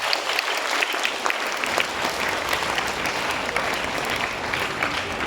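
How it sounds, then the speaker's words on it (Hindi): Students at a school Hindi Diwas assembly applaud loudly, a dense, sustained burst of many hands clapping together that carries evenly through the hall with no voices over it. "एक बार सभी के लिए जोरदार तालियां बजाइए।"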